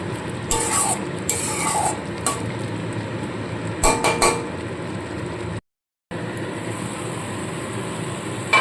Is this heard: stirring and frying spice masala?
yes